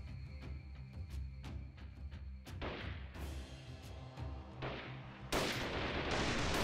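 Gunfire in the snowy war game Freeman: Guerrilla Warfare, a series of spaced single shots giving way to heavier overlapping bursts and louder blasts toward the end, near and sustained.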